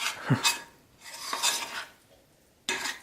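Pancake batter being stirred in a bowl, heard as close scraping, swishing strokes in three bursts with short pauses between them, a utensil rasping against the bowl.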